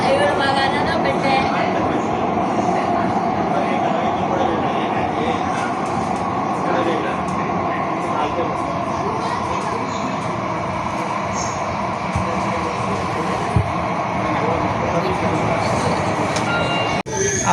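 Mumbai underground metro train running, a continuous loud rumble and rail roar heard from inside the carriage, with faint passenger voices underneath.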